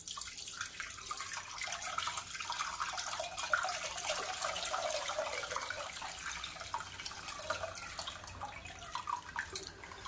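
Water runs steadily into a container for about ten seconds, a continuous splashing trickle at moderate level with no voices.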